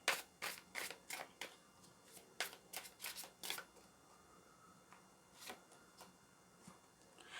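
Tarot cards being shuffled by hand, a series of quick crisp riffling bursts in a regular rhythm, close and fairly soft, thinning out into a few scattered flicks toward the end.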